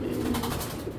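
A large racer pigeon gives a short, low cooing call, close by and alone for about a second.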